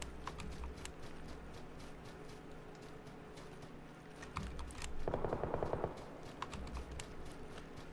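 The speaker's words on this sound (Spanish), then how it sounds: "He escuchado tiros más cerca." A quick burst of rapid gunfire from a game rings out near the middle, over a steady background hum and scattered sharp clicks.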